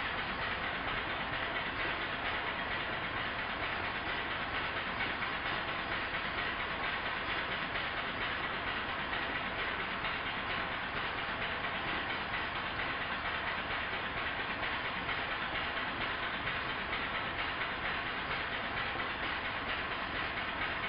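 A model steam engine runs steadily and continuously with a fast, even mechanical chugging and no voices, its burners turned off.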